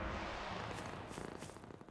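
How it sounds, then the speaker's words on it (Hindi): A cartoon cat purring up close, a steady rumbling drone that turns into soft rhythmic pulses toward the end. "फलाफल, बहुत शरारती बिल्ली हो"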